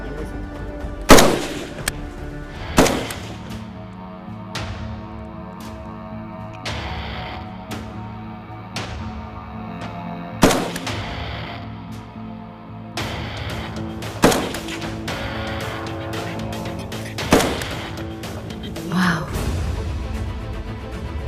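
Gunshots ring out at an army regiment firing range, a series of loud sharp reports spaced a few seconds apart with echoing tails and low rumble between them.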